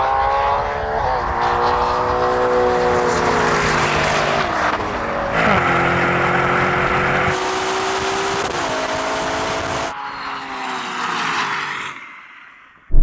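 A Ferrari Purosangue and a Lamborghini Urus Performante accelerate hard side by side in a drag race, loud engine roar climbing in pitch through several gear changes before fading off near the end.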